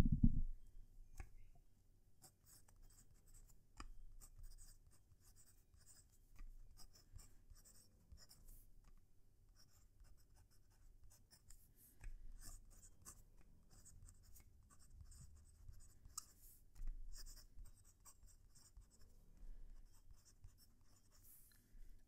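A fountain pen writes on a Rhodia standard A5 pad of plain paper, close and faint, with soft scratchy strokes and occasional light taps repeated over a long stretch, no talking.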